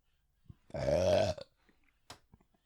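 A single loud, drawn-out burp lasting under a second, close to the mic, followed by quiet with a few faint clicks.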